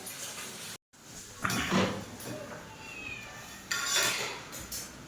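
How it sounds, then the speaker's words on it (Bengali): A cat meows a few times nearby, short calls over soft background noise and light clattering. "মাছ দিয়েছি তাও হচ্ছে ম্যাও ম্যাও করেই যাচ্ছে"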